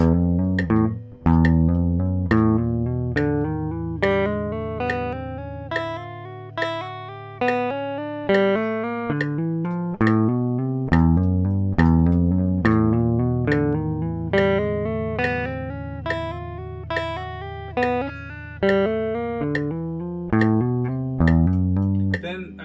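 Clean electric guitar plays a steady repeating exercise of downstroke-picked notes with hammered-on follow-ups, even and rhythmic, played alone for the whole stretch.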